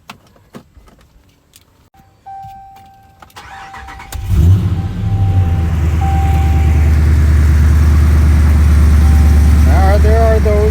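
A Ram truck with a 5.7 engine and a Stainless Works header exhaust system cranks and fires up after a few faint clicks and rattles, then settles into a loud, deep, steady idle rumble close by.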